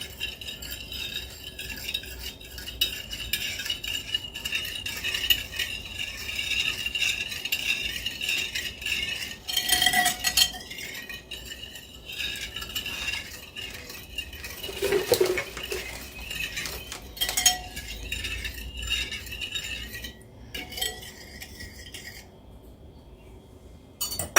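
A sugar mixture for an almond cream cake is stirred steadily in a bowl for a long stretch, with continuous close scraping and occasional clinks of utensil against the dish.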